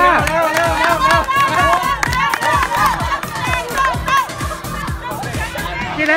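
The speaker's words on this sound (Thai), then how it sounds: "กองเชียร์เชียร์หน่อยกองเชียร" A cheering squad shouts and cheers for teammates during an eating race at a friendship-building color sports day game, a dense loud crowd roar with overlapping excited voices and shrieks that runs steadily throughout.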